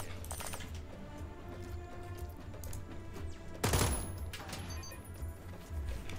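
Gunfire in the tactical game Jagged Alliance 3, with faint scattered shots and one loud sharp burst near the middle, set over a steady low game ambience with light clicking.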